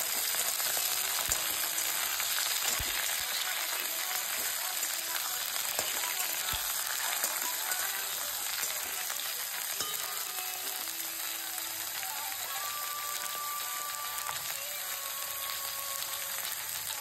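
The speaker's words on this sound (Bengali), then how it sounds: "আমি এর মধ্যে এই বেগুনগুলো দিয়ে দেবো। এই বেগুনগুলো একটু লাল করে দিয়ে দেবো।" Eggplant frying in a pan, being browned: a continuous dense sizzle of hot oil that holds steady throughout, with occasional faint clinks and stirring scrapes underneath and no voices.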